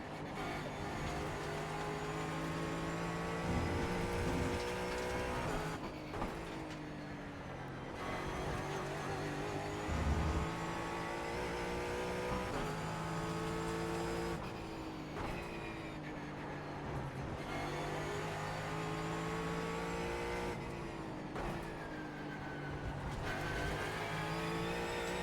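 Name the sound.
Ford Mustang GT4 race car engine in iRacing video game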